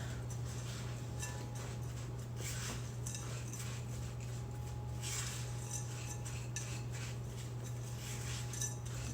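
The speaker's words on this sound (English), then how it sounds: "we're gonna pour the cookie in there. So we're just gonna mix it together" Cookie crumbs mixed with melted unsalted butter in a bowl for a Mississippi mud pie, a soft, steady scraping with light clinks of a utensil against the bowl, quiet and close over a low background hum.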